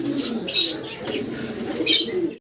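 Pigeons, a pair of white-capped American tumblers, coo in a low, throaty rumble close by, with brief brighter chirps or wing flutters breaking through twice above the steady murmur.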